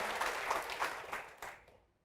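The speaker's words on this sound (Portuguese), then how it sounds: "Vamos aplaudir ao Senhor, vamos aplaudir mais então." Congregation clapping at a church service, a brief, fairly faint patter of applause that fades out within two seconds.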